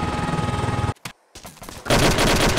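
Gunfire in the military shooter game ArmA 2 with the ACE mod: loud, rapid automatic bursts, a brief near-silent pause, then another dense volley of shots.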